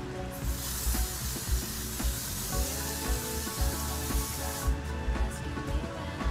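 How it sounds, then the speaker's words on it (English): Hairspray hisses in a continuous spray onto styled hair for a messy pompadour quiff, a close, steady aerosol rush with no talk. "spray the hair down."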